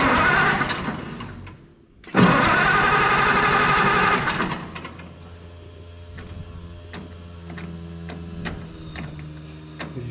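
A tractor engine cranks and starts with the choke on, a loud burst of turning over, a short pause, then a sputter into a steady, rhythmic idle with sharp ticking knocks.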